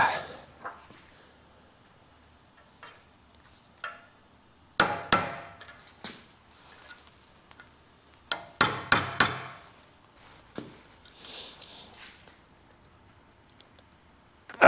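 Hammer striking a thin punch into a hydraulic flow reducer fitting held in a vise, heard as sharp metallic clangs in a few quick clusters of three or four blows, close and loud amid quieter clicks.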